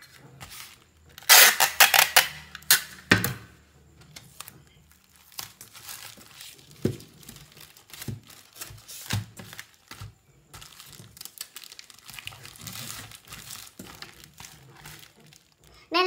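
Plastic wrapping crinkles and rustles close up as a shop order is packed, loud bursts of crumpling early, then softer intermittent rustles and taps throughout.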